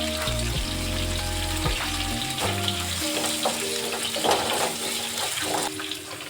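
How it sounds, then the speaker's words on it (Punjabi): Chopped tomatoes with salt frying in a pan, a steady sizzle with stirring scrapes over a low background hum. "ਪਹਿਲਾਂ ਟਮਾਟਰ ਨੂੰ ਅਸੀਂ ਚੰਗੀ ਤਰ੍ਹਾਂ ਭੁੰਨ ਲੈਣੇ ਆ"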